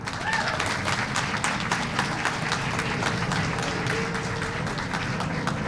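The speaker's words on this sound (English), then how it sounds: "One more round of applause." Audience applause at an outdoor Earth Day event where a mayor signs an executive order: steady clapping from a modest crowd with scattered individual claps, a few faint voices mixed in.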